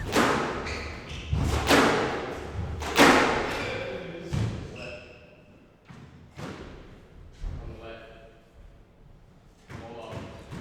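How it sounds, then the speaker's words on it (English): A squash ball cracks against the court walls in a professional Unsquashable Premier League match, with several sharp thuds and bounces spaced a second or so apart, loud and close, amid crowd and room noise and commentary. "Well, there was a shot at the front wall there from Michael SHELTON-AGAR."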